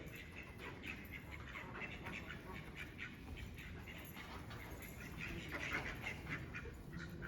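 Ducks quack intermittently during a herding dog training session, scattered nasal calls at a moderate distance over steady outdoor background noise, fairly faint overall.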